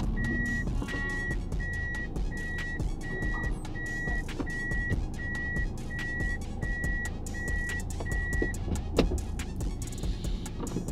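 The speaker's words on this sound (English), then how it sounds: "that sound when you're backing up" A steady series of about a dozen evenly spaced electronic reverse warning beeps from a Toyota Chaser sounds over a low idling engine, then stops.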